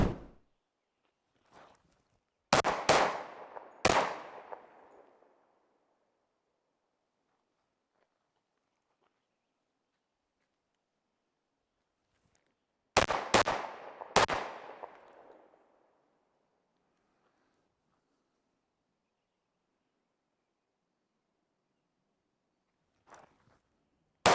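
A 10mm pistol firing Berry's 200 grain flat point thick plate bullets at full power: two tight bursts of three sharp, loud shots each, separated by a long quiet pause, with a faint single crack at the very end.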